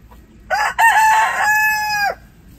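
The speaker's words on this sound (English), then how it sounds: "no one seems to want these two Americana roosters" An Americana rooster crows once, loud and close, a single drawn-out call that rises and then holds before cutting off.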